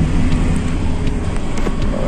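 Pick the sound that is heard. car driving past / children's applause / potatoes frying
car driving past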